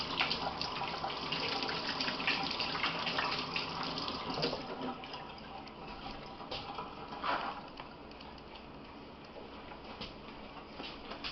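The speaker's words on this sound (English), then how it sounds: "We'll actually wash my hands a little bit here." Running tap water while hands are washed in a kitchen sink, a steady close splashing gush that varies slightly as the hands move under the stream, with no talking.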